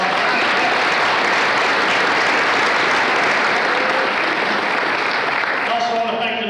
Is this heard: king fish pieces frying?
no